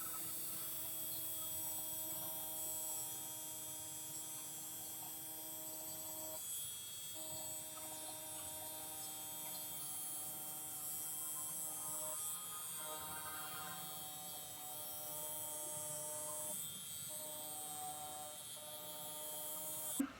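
A Deminuage Nanopen nanoneedling device buzzes with a steady, faint electric hum, holding one tone throughout with little change.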